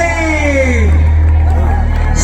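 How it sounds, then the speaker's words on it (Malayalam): Spectators at a Kerala tug of war match between Hercules Vembayam and Safdar Hashmi Valavil keep up a dense, steady roar of cheering and shouting, with overlapping voices and a low rumble underneath. "കളിയാവേശത്തിന്റെ കേളിരവത്തിന്റെ മുനമ്പിൽ ആർപ്പ് വിളിച്ച് കാണികൾ"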